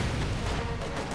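Katyusha rocket artillery firing in Company of Heroes 2, heard as a dense, continuous roar of rumbling blasts that stays loud and steady throughout.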